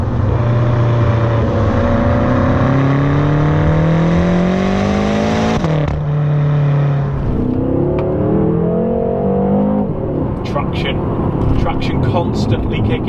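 A 2017 BMW M6 revs hard through rising engine sweeps with gear changes, then slows under heavy braking on carbon ceramic brakes, its loud cabin drone continuous throughout while someone talks over it.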